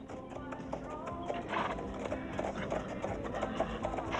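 Horse hooves clip-clop steadily at a château, an even rhythmic tapping at moderate distance with a faint background murmur.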